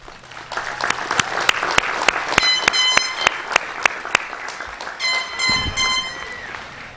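An audience at a 2005 engineering event at California State University, Long Beach applauds student body officers, producing dense, steady clapping with sharp individual claps and a few shrill whistles cutting through.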